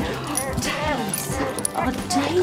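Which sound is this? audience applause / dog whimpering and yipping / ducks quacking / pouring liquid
dog whimpering and yipping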